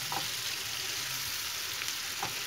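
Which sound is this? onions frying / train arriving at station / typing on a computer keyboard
onions frying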